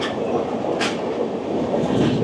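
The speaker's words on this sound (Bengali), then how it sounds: "বেলা 11টা বেজে 42 মিনিট আমাদের ট্রেন ছেড়ে দিল ইলুরু স্টেশন" Coromandel Express passenger train running between Eluru and Vijayawada, a steady broadband rumble of wheels and carriage noise with a brief hiss near the middle, continuous and close throughout.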